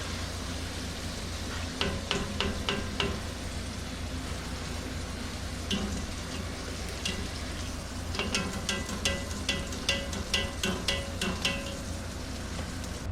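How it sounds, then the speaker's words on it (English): A second batch of french fries frying in hot oil, a constant dense sizzle with bursts of sharp crackling and popping, close and steady with no talking. "we're frying up our second batch here"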